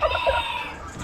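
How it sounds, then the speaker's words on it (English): A rooster lets out one short, loud crow, heard up close at an Amish animal auction. "Roosters."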